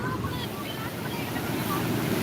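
Sea waves washing and surging by the shore, a broad steady roar mixed with wind buffeting the microphone, loud and continuous with faint voices underneath.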